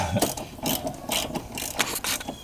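Ratcheting wrench tightening a bent bolt on a Honda fuel filter mount, giving short bursts of mechanical clicking in quick repeated strokes, close and moderately loud with no talking.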